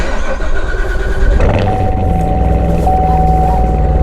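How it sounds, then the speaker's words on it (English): A C7 Corvette Z06 cold-starts, the starter churning briefly before the engine catches and settles into a loud, steady high idle close by. "I'm going to give it a cold start"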